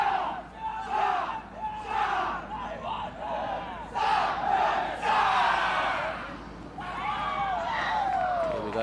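At an under-19 men's rugby match between Korea and Chinese Taipei, a group lets out loud, rising and falling shouts and battle cries in repeated surges, with crowd noise carrying between the bursts.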